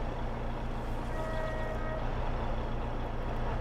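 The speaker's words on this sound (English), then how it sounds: "I still love this truck from Northwest Mods and Edits. It's got to be one of my favorite trucks in Farm Sim so far. The sounds are just epic." Steady low truck engine drone from a modded Northwest Mods and Edits truck in Farming Simulator, with a faint tonal whine rising briefly in the middle, continuous and close with no talk.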